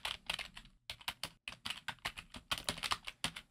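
Keys clatter steadily on a computer keyboard as a file name is typed on a Windows 11 PC, a fast run of close, crisp clicks in short bursts with brief pauses between them.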